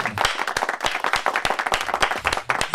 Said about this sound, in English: a big round of applause, Miss Shiloh Baylon.